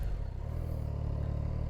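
A Triumph Tiger 660 Sport triple-cylinder motorcycle engine with stock exhaust idles quietly with a low, even, steady putter, close by and alone.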